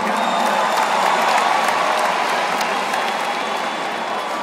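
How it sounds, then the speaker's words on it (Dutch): Sustained audience applause fills a large Dutch youth-event hall, a dense steady wash of clapping with some crowd noise, loud and continuous throughout. "Applaus voor jezelf."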